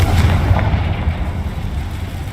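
A Confringo fire spell bursts in Hogwarts Legacy, a loud, dense rumbling explosion that roars steadily throughout with heavy low-end boom and no speech.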